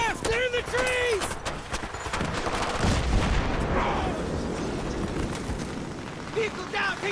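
Gunfire erupts during an ambush in Battlefield 3, a dense run of sharp shots and booming blasts crowding the scene, with voices shouting over the barrage throughout.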